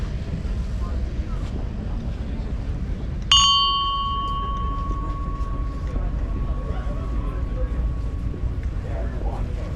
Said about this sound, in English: Scramble bell.